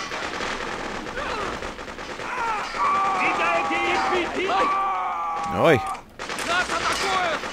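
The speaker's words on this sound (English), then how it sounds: "We're taking fire." Rapid machine-gun fire crackles through the Freedom Fighter game in sustained bursts under shouted in-game voices, with a brief pause and a final volley near the end.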